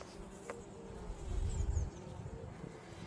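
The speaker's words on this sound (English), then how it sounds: "you can see all the bees, you can hear them" Bees buzzing among flowers on an allotment, a soft, steady drone that swells briefly when one passes close, with faint outdoor ambience and no speech.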